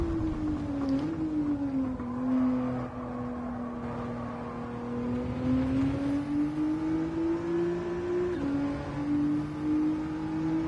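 A Nissan GT-R R35 NISMO engine drones steadily from inside the car, its pitch gently rising and falling as it drives, continuous and fairly loud with no talking.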